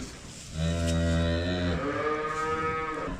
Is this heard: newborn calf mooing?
yes